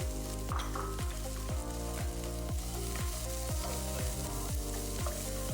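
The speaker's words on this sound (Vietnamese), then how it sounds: "Cho hành tây, cần tây vào xào trong khoảng 2 đến 3 phút" Onion and celery stir-frying in a pan for a shepherd's pie, a steady dense sizzle throughout with a faint even rhythm of stirring, close and continuous.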